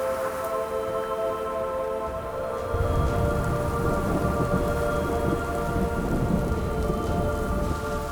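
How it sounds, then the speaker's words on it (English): Heavy wet-season rain pours down steadily in a jungle under a thunderstorm, with a dense, constant hiss of drops. Low thunder rumbles in from about three seconds on and continues underneath the downpour. "The wet season brings heavy rains."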